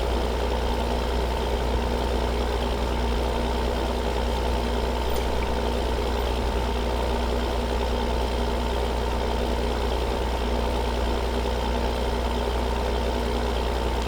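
Steady engine hum of a two-wheel drive tractor planting corn in Farming Simulator 2013, droning evenly and unchanging for the whole stretch with a low rumble and no talk.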